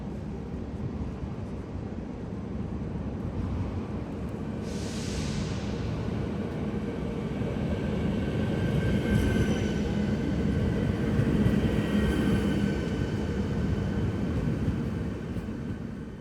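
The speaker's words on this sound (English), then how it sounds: "The train is arriving, so let's activate our tickets." A suburban train pulls into a station near Prague, a steady broad rumble that swells gradually and stays loud throughout with no voices.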